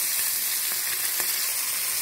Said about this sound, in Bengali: এর মধ্যে আমি একে একে মাছগুলো দিয়ে দেব।